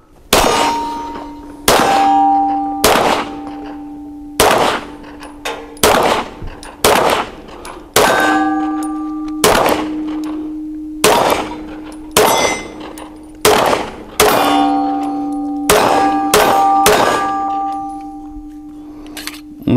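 Single pistol shots from a Sarsılmaz K12 Sport ring out at a shooting range, about fifteen sharp, loud reports at irregular intervals, each followed by a metallic ringing clang as rounds strike a steel target.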